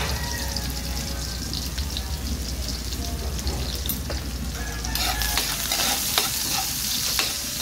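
Onion, ginger and garlic are stirred in a frying pan with a spatula, a continuous loud sizzle with scraping strokes that grows brighter and stronger partway through, no talking.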